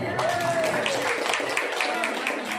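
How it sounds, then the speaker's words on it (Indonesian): An audience at a teacher-training session in Batam applauds in a steady, dense wash of clapping that lasts the whole moment, with a voice heard faintly through it. "Tepuk tangan dong."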